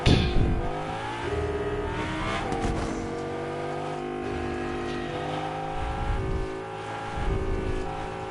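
A car in a video game driving and revving, a loud steady engine drone with rising and falling pitch as it accelerates, close and continuous throughout.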